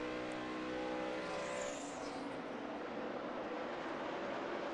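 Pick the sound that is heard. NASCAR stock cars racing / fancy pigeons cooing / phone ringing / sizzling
NASCAR stock cars racing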